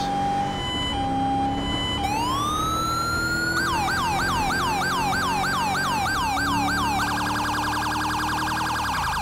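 A police car in Grand Theft Auto V sounds a Mastercom B code 3 siren, starting with a rising wail, then rapid yelp cycles and a faster warble, loud and steady over low engine hum.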